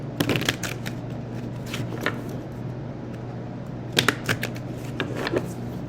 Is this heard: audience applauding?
no